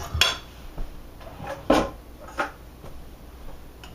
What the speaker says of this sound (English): Let me quickly grab a little dish so I can plate it.